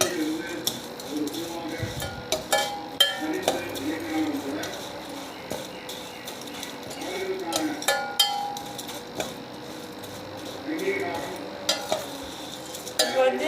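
Vermicelli is stirred in a pan for pal payasam, with a spoon scraping and clinking against the metal in irregular strokes over a soft, steady sizzle, close by and moderately quiet.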